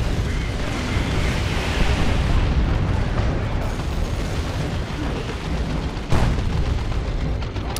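Continuous booming battle noise from Dawn of War II: Retribution as a Great Unclean One attacks a generator, with dense explosions and impacts rumbling throughout and a sharper burst near the end.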